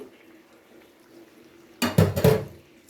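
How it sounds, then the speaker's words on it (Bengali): A bowl is rinsed and a little water poured into a pan of egg korma, making a quiet lull followed by a sudden close burst of splashing and clattering of cookware. "কিছুক্ষণ নাড়াচাড়া করে নেওয়ার পরে বাটিটা ধুয়ে সামান্য একটু জল দিয়ে দিচ্ছি।"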